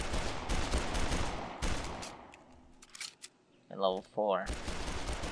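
Powerful pistol shots from the Dead Island Definitive Edition video game, fired in bursts that fill much of the clip, loud and close, with a brief pause where someone speaks before the firing resumes.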